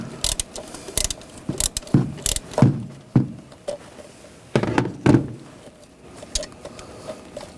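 An M8 triple square socket works a bracket bolt loose on a 2009-2017 Volkswagen Tiguan turbocharger and exhaust manifold, with irregular ratchet clicks, metallic clunks and knocks close by.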